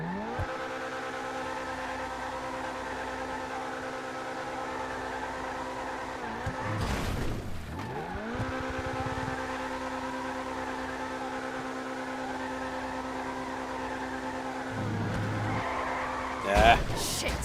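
A car in GTA V doing burnouts holds a loud, steady engine drone with sustained tire squeal, broken by a few short surges where the pitch drops and climbs again.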